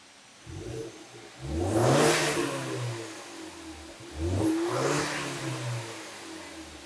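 A 56-year-old car's engine with stock exhaust cranks and catches, then revs up twice in rising and falling surges, fairly close, with no talking.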